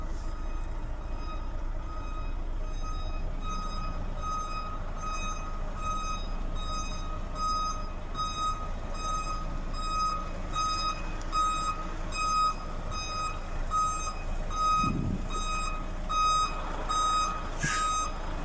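Reversing beeps from a truck hauling steel coils on a sloped curve, a steady repeating electronic tone pulsing through the whole stretch over constant engine rumble, with a brief thump near the end.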